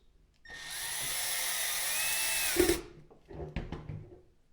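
A power drill drives 3/4 inch wood screws into wood, mounting a rechargeable LED work light on a tripod, with a close, steady whine for about two seconds that ends in a clunk, then brief handling noises.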